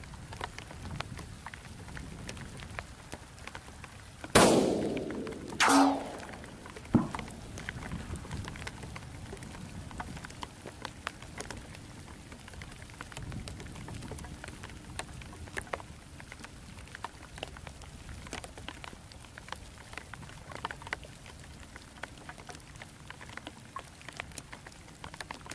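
Rain patters steadily at an outdoor long-range rifle range, a soft constant hiss of drops, broken early on by a couple of loud sharp bangs.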